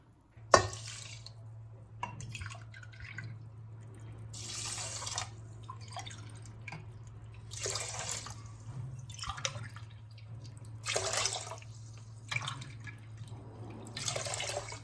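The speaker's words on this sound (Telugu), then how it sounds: "ఇప్పుడు ఏ గ్లాస్తో అయితే బియ్యం తీసుకున్నామో అదే గ్లాస్ తోటి 5 గ్లాసులు నీళ్ళని" Water is poured in a thin stream into a pot of rice for cooking pongal, splashing and dripping faintly in several short bursts with a steady low hum beneath.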